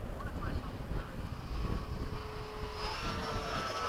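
A radio-controlled F/A-18 model jet with electric power on landing approach, its steady whine and rushing airflow heard outdoors amid wind noise, with a rising tone near the end.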